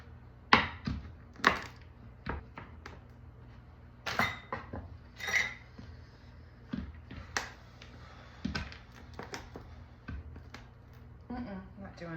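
Whole almonds are ground by hand for a Battenberg cake, giving sharp, irregular crunching knocks and cracks at close range, scattered over several seconds against a quiet background.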